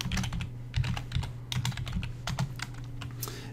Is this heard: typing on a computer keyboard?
yes